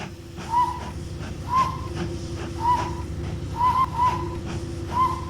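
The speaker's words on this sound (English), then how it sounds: "So it has the whistle." A steam locomotive whistle in the Rolling Line train game sounds in short, clear tooted blasts, about six evenly spaced toots, moderately loud over a steady low engine rumble.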